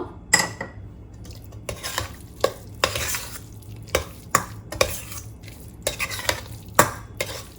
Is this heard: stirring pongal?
yes